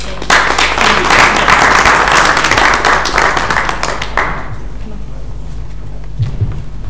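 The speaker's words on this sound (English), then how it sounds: "please give them a round of applause" Audience applause at an international business conference, a dense burst of clapping from a crowd that fills the room loudly for about four seconds, then thins to scattered claps before fading out.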